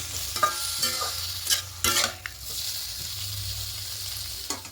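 Paneer pieces lightly frying in a pan for a vegetarian potato-paneer curry give a steady soft sizzle, broken by a few louder scraping stirs of a spatula, close and without talk.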